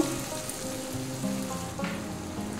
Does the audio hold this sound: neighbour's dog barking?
no